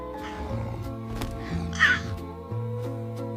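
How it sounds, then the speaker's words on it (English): Several crows caw in short harsh bursts, one loud call standing out, over a sustained musical backing. "or crows tried to dive at the basket,"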